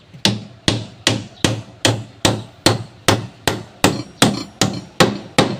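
Hammer strikes ring out on a nail about every half second, thirteen sharp, loud, evenly spaced blows heard close up with no voices over them.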